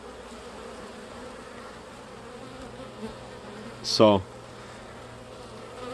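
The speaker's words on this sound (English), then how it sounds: "Look at them attacking bees on the landing board." Continuous low buzzing of many honeybees close by at a hive entrance, bees attacking others on the landing board, with a brief louder buzz passing near the microphone.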